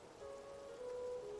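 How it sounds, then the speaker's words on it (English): Heavy rain pours down on open countryside in big, dense drops, a steady, even wash of sound with no voices. "As rain unleashed on the countryside, falling down in big,"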